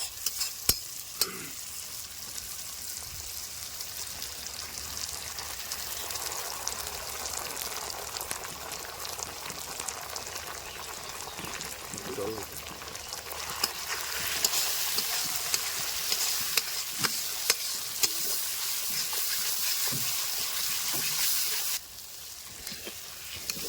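A ground paste of melon seeds, cashews and green chillies fries in hot oil over fried spices and onions for a cauliflower roast, giving a steady close sizzle with occasional spatula stirs and scrapes and no talking.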